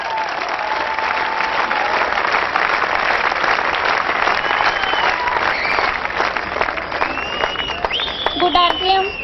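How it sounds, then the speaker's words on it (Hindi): An audience at a celebration program for the RCM business claps loudly and continuously in a large hall, with cheering and shouts mixed in and a voice over the applause. "आप सबकी जोरदार तालियों के बीच"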